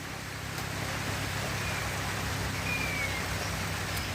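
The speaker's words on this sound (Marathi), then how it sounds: "त्या पानांवर असं वाजत आहे ना हालत आहे" Heavy monsoon rain pouring onto leaves in farmland, a dense, steady, even hiss that stays constant throughout with no pauses and no voices.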